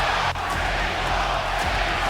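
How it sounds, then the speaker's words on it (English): A dense, roaring arena crowd cheers loudly and continuously at a boxing match in Mexico, with a broad, distant wash of voices. "The cheer Mexico goes up, reaches downstairs."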